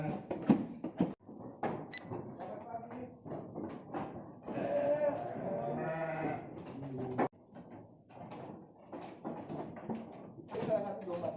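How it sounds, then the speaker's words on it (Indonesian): An Indonesian four-horned fighting sheep (domba tangkas) in Majalengka bleats in drawn-out wavering calls, with people talking close by before and after. "Salah satu domba tangkas."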